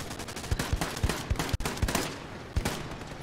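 Video game gunfire in a Band of Brothers themed shooter: a rapid series of sharp, loud shots in quick bursts with uneven rhythm, near and punchy, with no talking over them.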